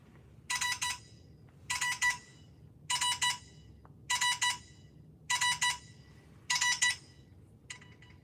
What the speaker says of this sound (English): That's my Morse code. My Morse code call ringtone.